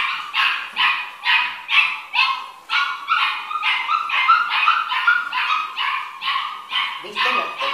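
A dachshund puppy gives a rapid run of high whimpers and yips, rhythmic and close, repeating steadily with short gaps, and a voice briefly joins near the end.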